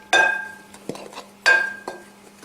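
Whole wheat flour and baking powder stirred in a bowl, two distinct ringing clinks of a utensil against the bowl, each followed by softer scraping taps, close and clear.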